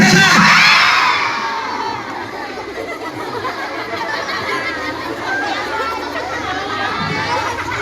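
Children in an audience at a storytelling session scream and shout all at once, a loud burst that eases into a sustained, noisy crowd of excited young voices.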